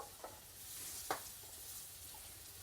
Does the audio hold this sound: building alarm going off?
no